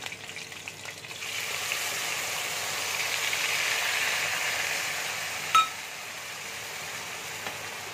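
Spice paste frying in a pan for a hilsa fish head and cabbage curry gives a steady, moderate sizzle that swells and fades, with one sharp clink partway through and no voices.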